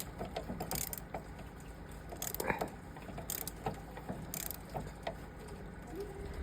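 Bolts are tightened on a Honda Forza 300 scooter after its front brake pads are replaced, with a tool giving scattered ratcheting clicks and metallic taps at close range, quiet and irregular, without speech.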